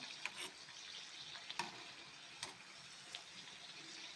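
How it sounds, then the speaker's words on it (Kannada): Karavarki evening snacks fry in oil over a low flame, a soft steady sizzle broken by occasional faint crackles and light stirring clicks, quiet and close with no talk. "ಫ್ರೈ ಮಾಡ್ಕೊಂಡು ನಾನು ಲೋ ಫ್ಲೇಮಲ್ಲೇ ಇಟ್ಟಿದ್ದೀನಿ"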